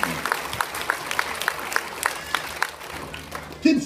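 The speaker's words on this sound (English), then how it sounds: "Give the Lord a hand clap." A church congregation claps hands in praise, sparse, fairly evenly spaced claps heard against a quiet room, with a brief louder sound near the end.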